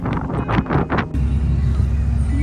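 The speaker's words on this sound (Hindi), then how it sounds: "हवा चल रही है कि आपको आवाज़ तक सुनाई नहीं देगी" Strong wind blowing outdoors in Istanbul, Turkey, a loud steady roaring rush buffeting the microphone after a few brief gusty puffs at the start, with no one speaking.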